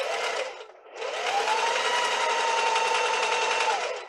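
A sewing machine stitches fabric in steady continuous runs, close and fairly loud, with a brief pause near the start before a longer unbroken stretch.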